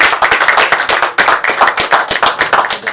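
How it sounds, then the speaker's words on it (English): A live audience at a public film Q&A gives a round of applause: dense, steady hand clapping close by, lasting throughout with no speech over it. "So another round of applause for these two folks"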